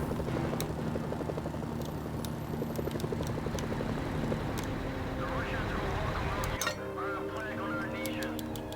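Helicopter rotor chop thrums steadily beneath sounds of the game Mercenaries: Playground of Destruction, with metallic clinks and a voice speaking over it.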